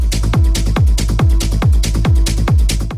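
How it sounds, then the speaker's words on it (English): A punchy, booming techno kick drum thumps in a steady four-on-the-floor rhythm, loud and dry with little else around it. "Literally just a thumping kick drum"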